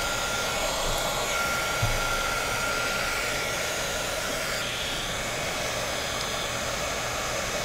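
Heat gun blowing hot air to shrink heat shrink tubing over a resistor gives a loud, steady whooshing roar close by, holding constant throughout with no speech.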